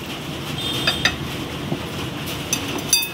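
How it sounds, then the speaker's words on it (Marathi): Warm milk, sugar and ghee stirred together in a bowl for a sweet dough, with a spoon scraping and clinking against the sides in a few light taps over a soft, close rustling. "दूध, साखर आणि तूप व्यवस्थित आपण मिक्स करून घेतलंय"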